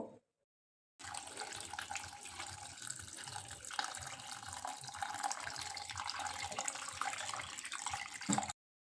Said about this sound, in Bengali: এটাকে আমরা এখন ঠান্ডা জলে ধুয়ে নেব।